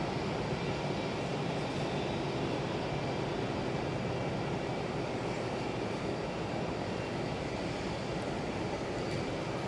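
A WestJet airliner arrives at Phoenix Sky Harbor during stormy weather, a steady, dense broadband rumble of jet noise that stays even and moderately loud throughout, with no voices.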